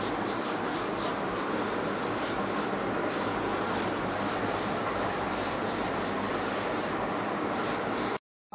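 An eraser rubs out writing on a classroom board, a continuous dense scrubbing sound in quick back-and-forth strokes, close and steady for about eight seconds before stopping abruptly, with no one talking.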